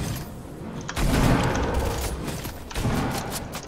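Gunfire in a battle royale video game, loud bursts of shots and booms in two main clusters, close and heavy, with no talk over them.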